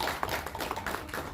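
Brief burst of audience applause at a film success meet and celebrity show, a dense patter of many hands clapping close by with no talk over it.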